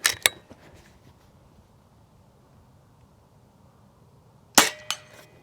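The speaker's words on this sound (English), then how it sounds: "You can hear those ricochets." JTS Airacuda air rifle firing slugs and pellets outdoors, two sharp cracks followed by a quiet stretch, then another loud shot with a quick ricochet-like ping after it.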